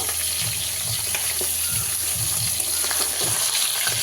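Fish fries in a kadai of hot oil with a steady, dense sizzle and bubbling crackle, close and continuous throughout with no talking.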